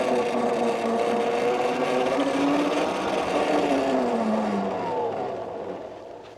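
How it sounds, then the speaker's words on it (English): A MEGAWHEELS D2 electric dirt bike rides by with a rising and falling whine and rough rolling noise, loud and close, easing off toward the end. "it does make some noise, but it's still way quieter than a gas dirt bike by far"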